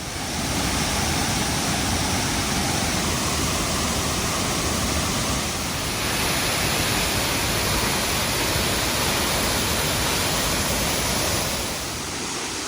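Wachirathan Waterfall on Doi Inthanon roars with rushing water, a loud, unbroken wash of noise heard from close by with no voices.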